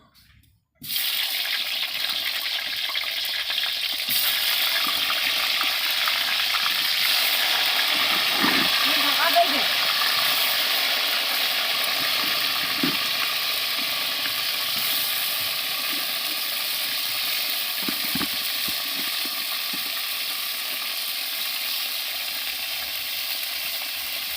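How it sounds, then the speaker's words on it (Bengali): Cauliflower florets frying in hot oil in a pan, a steady loud sizzle and crackle that runs continuously from start to finish, with occasional kitchen clinks. "এবার ফুলকপিগুলো ভাজবো"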